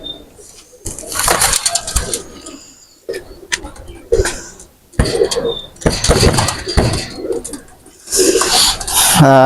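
Two Pakistani new-running pigeons are set loose, with bursts of wing flapping and scattered cooing rising and falling in loud, uneven clusters with short pauses between.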